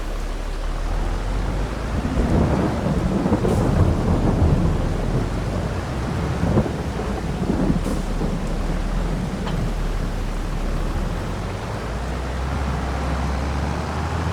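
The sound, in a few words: rain and thunder in the video game Farming Simulator 22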